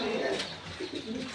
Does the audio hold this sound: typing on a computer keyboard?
no